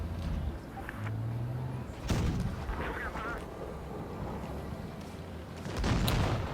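Tank cannon shots boom in World of Tanks Blitz as a Ho-Ri Type 3 fires, with heavy blasts at irregular intervals over rumbling game noise.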